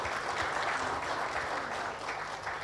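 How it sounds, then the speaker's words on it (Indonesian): An audience at an economic outlook forum in North Sumatra claps for an arriving guest, a steady, fairly faint wash of applause that runs the whole stretch without clear voices. "Tepuk tangan buat beliau yang sudah hadir."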